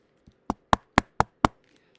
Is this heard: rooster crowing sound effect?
no